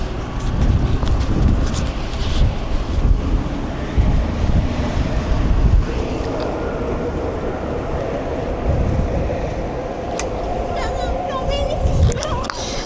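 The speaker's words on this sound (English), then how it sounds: "It's like crazy windy." Strong outdoor wind buffets the microphone with loud, uneven rumbling gusts, while a person talks intermittently over it.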